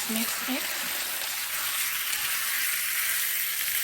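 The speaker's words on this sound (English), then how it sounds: "I'm gonna fry this until it's done." Shrimp frying in sesame oil in a very hot pan, a dense steady sizzle filling the clip close and loud, with a few short tonal clinks near the start and no clear speech.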